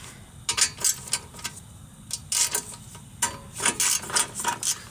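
A 3/8 inch ratchet wrench turns in a repair shop, giving bursts of rapid clicking in short repeated strokes, close and clear with quiet pauses between.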